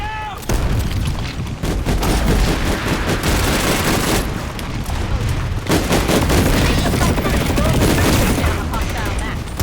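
Dense, loud gunfire bursts and booming grenade explosions in Planetside 2 pound almost without break, with a short lull partway through.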